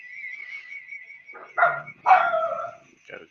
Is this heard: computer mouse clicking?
no